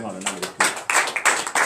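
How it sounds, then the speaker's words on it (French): Bursts of congregational clapping at a morning prayer service in Benin, uneven rhythmic claps in several loud clusters, with voices mixed in. "Donnez l'acclamation à la Seigneur."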